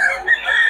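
Chickens at a poultry market in Bukawi where sellers buy birds, a short burst of crowing and clucking fowl heard up close, loud, without talk.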